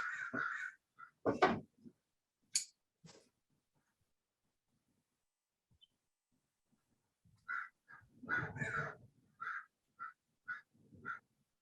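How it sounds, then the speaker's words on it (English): A crow caws outdoors in a short burst of calls, then falls silent before a longer series of rhythmic, fairly loud caws returns. "The crow is getting annoyed."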